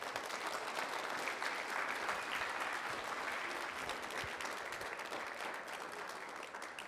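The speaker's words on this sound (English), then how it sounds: "one more round of applause for her, please" Another round of applause breaks out for a student at a Weslaco High School college signing ceremony, a full room clapping in an even, sustained wash that stays steady and fairly distant, easing slightly near the end.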